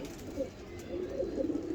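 Lakha pigeons give low, throaty coos near at hand, a soft warbling pulse repeating alone with no voices over it.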